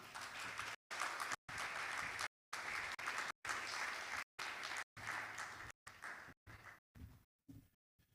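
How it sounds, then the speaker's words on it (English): Loud, sustained applause from an audience fills the room, broken by abrupt cut-outs, growing thinner and patchier toward the end. "A round of applause for him."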